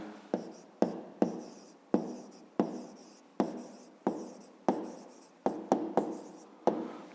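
Pen writing down a maths answer, a close, quiet series of short scratching strokes in an uneven rhythm, each stroke starting sharply and trailing off, with no talk.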